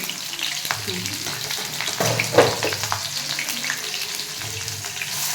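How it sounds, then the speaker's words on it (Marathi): Green chilies, cumin and mustard seeds sizzling and crackling in hot oil for poha, a close continuous fry with scattered pops and a louder burst midway, a few stirring scrapes, no talking. "तेल गरम होते मिरची टाकून घेतली मस्त जिरी मोहरी टाकून घेतली"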